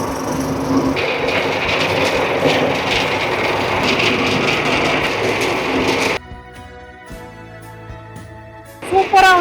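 A masala grinding and sifting machine runs with a loud, steady whirring rush for about six seconds, then cuts out and leaves a faint hum before a voice speaks at the end.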